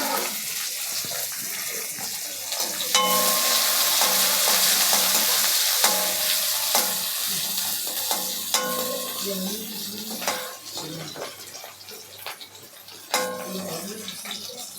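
Green chili and small onions sizzle steadily in a hot pan, a loud continuous frying hiss with occasional stirring clatter and scrapes, no talking over it.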